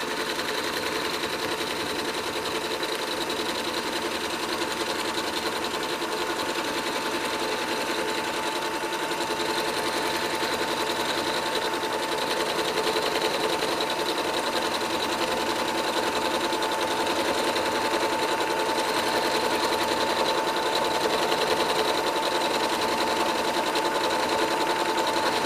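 A sewing machine stitches a quilt in a steady, continuous whir, pausing at corners for a few extra stitches, the motor hum holding level and close with no talk over it.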